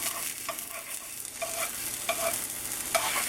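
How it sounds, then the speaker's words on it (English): Sausage, egg and kale sizzle steadily in a pan while a spatula scrapes and stirs them in short repeated strokes, close and clear, with no voices. "take my spatula and kind of mess with it a little bit"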